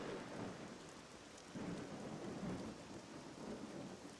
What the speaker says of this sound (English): The rain, the great rain, it's falling again!